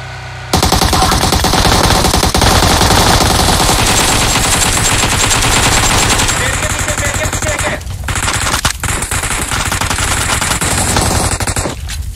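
Dense, rapid machine-gun bursts from the shooter game PUBG Mobile rattle on almost without pause, loud and close, with brief gaps near the end.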